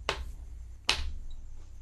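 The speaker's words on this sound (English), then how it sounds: "It was me tapping my chapstick against my desk, but it sounded like I was slow clapping myself." A Carmex lip balm tube tapped against a desk, two sharp isolated knocks nearly a second apart, close and clean like a slow clap, with quiet room tone between.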